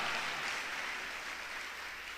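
A church congregation applauds in a steady, dense wash of clapping that holds evenly from start to finish without anyone speaking.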